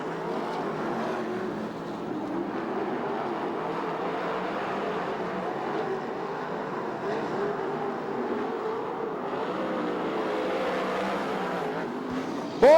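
USAC/CRA sprint cars race around a dirt oval at Ventura, California, and their engines roar as a steady, loud wall of sound that stays constant for the whole stretch.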